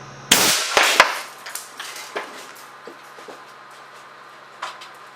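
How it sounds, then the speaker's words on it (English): An air cannon shot strikes a bathroom sink faucet with a sharp, loud bang and metallic clang, followed by a few lighter clattering impacts and debris settling that fade out. "the second shot hit nearly in the same place, just a touch lower, and has seriously damaged the spout of this faucet"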